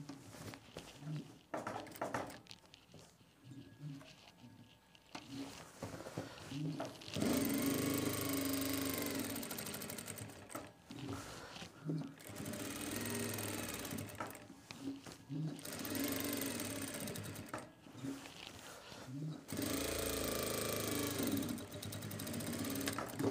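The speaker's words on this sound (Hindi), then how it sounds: "इस पे हम लगाएंगे डबल सिलाई।" A sewing machine runs in bursts while stitching a double seam on a pen pocket, its steady whirring motor rising and stopping several times, close and clear, with a person talking at points.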